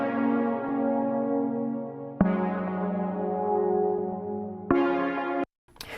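A retro Jupiter/Juno-style synth pad in a pop rock production holds warm, bell-like sustained chords that restrike twice with bright attacks, then cuts off abruptly near the end. Close and steady, with no voices.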